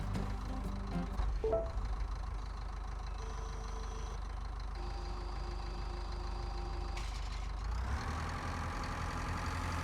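A tractor engine in Pure Farming 2018 runs steadily with a low, constant idling drone and faint mechanical whine, rising in pitch near the end as revs pick up.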